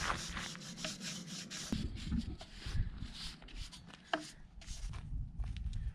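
Repeated machete strikes and scraping against firewood on a wooden sawhorse, close and fairly quiet, with a rough rubbing texture and one sharper hit partway through.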